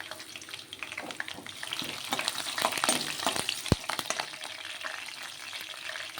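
Curry leaves and green chillies frying in oil for a ridge gourd milk curry, a moderate crackling sizzle that swells midway, with one brief sharp knock of a utensil.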